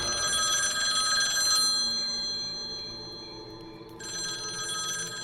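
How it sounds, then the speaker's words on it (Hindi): A telephone rings loudly with a continuous bright electric bell, the ring dropping away briefly and then resuming, with no voices over it. "तभी अचानक जोर से फोन बज उठा।"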